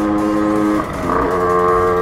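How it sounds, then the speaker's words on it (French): A 50cc Aprilia SX moped with a Euro 3 engine runs loud and close, holding a steady buzzing drone, briefly dipping, then rising again as it revs, with no talking. "Donc c'est un moteur Euro 3, donc c'est sur une Aprilia SX normalement."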